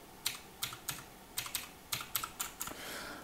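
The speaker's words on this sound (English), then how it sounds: "it's got mechanical key switches, which you can hopefully hear here when I type on it" Mechanical key switches clacking on a Velocifire NK01 wireless numpad, about a dozen crisp, close keystrokes at an uneven typing pace, with no voices.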